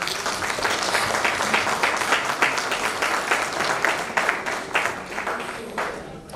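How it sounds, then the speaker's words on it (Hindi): Loud, sustained applause from a large audience at a classroom-style lecture or seminar, dense clapping filling the room steadily without talk. "एक बार जोरदार ताली हो जाए।"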